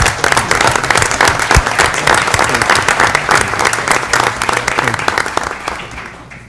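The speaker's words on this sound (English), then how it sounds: "would you please give him a round of applause?" Sustained applause from legislators and attendees at a New York State joint legislative budget conference committee hearing, honoring a retiring Assembly member; dense, loud clapping throughout that tapers off near the end.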